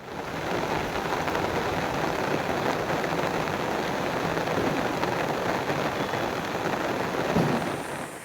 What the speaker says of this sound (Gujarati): અહીં ધોધમાર વરસાદ પડતા ખેતરો તરબોળ થઈ ગયા